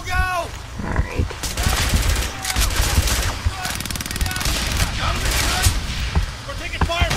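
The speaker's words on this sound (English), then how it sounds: "We're taking fire!" Heavy gunfire rattles continuously in Frontlines: Fuel of War, dense machine-gun bursts and sharp individual shots layered over booming battle noise, loud and close, with shouted voices mixed into the chaos.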